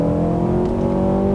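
A 2017 Mazda 6 sedan's 2.5 Skyactiv-G engine revs above 3000 RPM, a steady loud droning tone held close for a brief moment.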